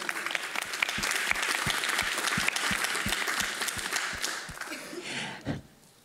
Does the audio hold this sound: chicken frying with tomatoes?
no